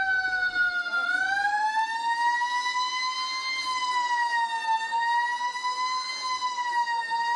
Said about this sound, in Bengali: নেতাজির জন্ম মুহূর্ত বেলা 12:15 সাইরেন বাজিয়ে শুরু অনুষ্ঠান